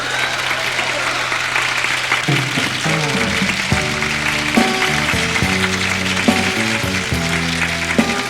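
Audience applause for a singer at a Fête de la Musique street performance, a steady dense clapping wash that runs the whole time, with music notes and an announcer's voice over it.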